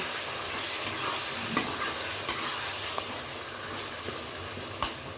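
Cut potatoes sauté in spiced oil in a pan for a mixed vegetable fish curry. A constant sizzle runs underneath a handful of sharp stirring scrapes, close up and with no talk.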